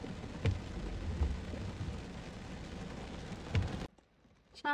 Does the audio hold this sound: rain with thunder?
yes